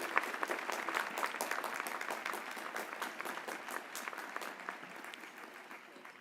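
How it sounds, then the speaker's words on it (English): Applause for veterans at an Ohio University graduate and doctoral commencement ceremony, a steady, moderately distant crowd clapping in a large hall, with individual claps standing out and no one talking. "Let's give them a round of applause."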